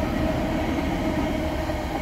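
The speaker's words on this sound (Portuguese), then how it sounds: "Olha o trem, galera." A train rolling past near a road in Brazil, a steady loud rumble of rail cars throughout.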